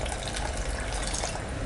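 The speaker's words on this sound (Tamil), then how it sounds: "இன்னும் கொஞ்சம் தண்ணி மட்டும் விட்டுக்கலாம்." Water pours into a pot of sago and vermicelli for payasam, a steady gushing splash that runs continuously up close.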